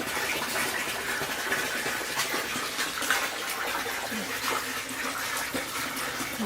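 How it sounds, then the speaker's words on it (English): Water pours and splashes steadily into aquaponics grow beds through a flow valve, a continuous rushing flow with faint voices in the background. "there is a valve to control the water flow into the beds"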